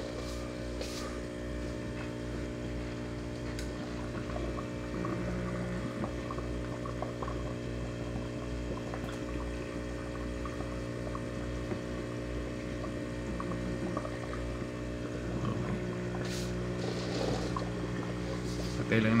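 A running aquarium waterfall pump gives a steady, low mechanical hum with a continuous trickle of moving water, constant throughout, with faint clicks and no talk.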